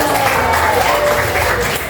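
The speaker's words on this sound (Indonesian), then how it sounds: "tepuk tangan dulu" Classroom applause from students during an Islamic studies lesson, a short burst of steady clapping with a faint voice sounding over it.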